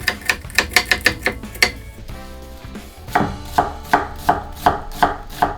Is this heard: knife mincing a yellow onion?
yes